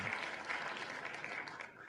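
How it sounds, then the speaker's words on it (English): A canned studio-audience applause effect plays as someone wins, a dense burst of clapping lasting about two seconds at moderate level. "I didn't realize we had a live studio audience. It claps and everything when people win."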